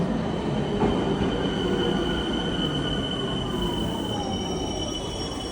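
A train running on rails with steady wheel squeal, high whining tones held over a loud, continuous rumble and rattle heard from on board, with no voices.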